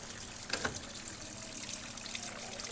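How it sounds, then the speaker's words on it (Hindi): Water runs into a washing machine as it fills, a faint, steady trickling rush close by, with a couple of small splashes near the start. "जब तक मशीन में पानी भर जाए।"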